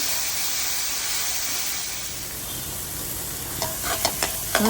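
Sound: stirring onions with salt in a frying pan

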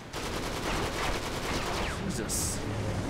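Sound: gunfire from a gun in the Uncharted 3 video game

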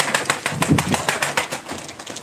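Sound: tumbler pigeons cooing and flapping

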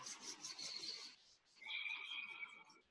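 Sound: hands rubbing together

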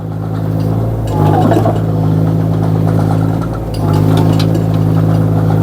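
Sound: Kobelco 1.2-ton mini excavator engine revving and driving

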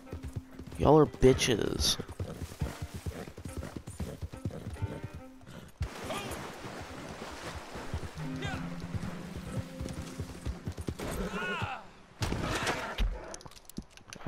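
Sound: horse galloping in a video game

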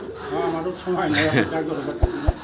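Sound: pigeons cooing at a farm

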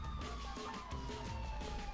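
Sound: police car siren in video game GTA IV

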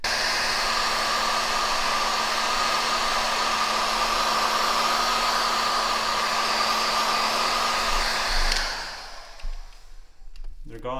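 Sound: heat gun heating scratched paint protection film

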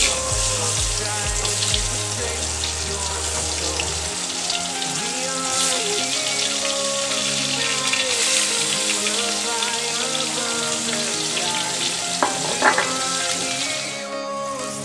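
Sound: pointed gourd frying in oil

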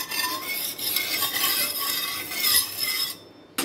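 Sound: spreading poha vegetable dosa batter around the pan

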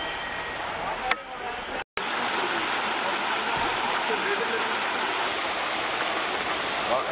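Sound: waterfall and stream water flowing at Yeşil Waterfall

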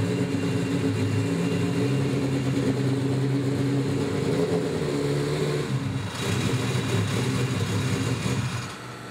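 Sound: drag racing car engine roaring

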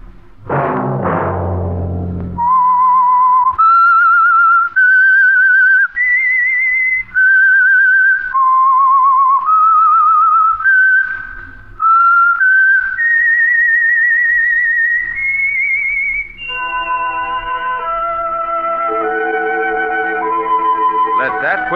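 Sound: signature whistling theme of radio drama The Whistler

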